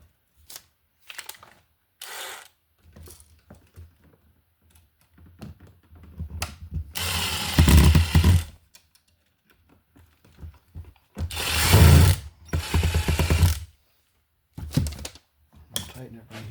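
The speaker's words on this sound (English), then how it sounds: "now we can screw our device back into our box here" A screwdriver drives screws to fix an electrical switch device back into a three-gang wall box, giving short scraping ratchet-like turns and clicks in bursts with pauses between.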